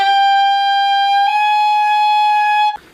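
Saxophone using the palm keys, stepping from a sustained high E up to a high F, loud and close; one clean held tone that shifts pitch partway through, then cuts off.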